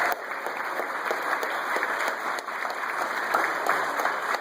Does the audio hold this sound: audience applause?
yes